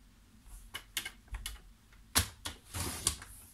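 Paper being cut for a scrapbook album, heard as a series of close, crisp snips and rustles, with several sharper cuts coming irregularly.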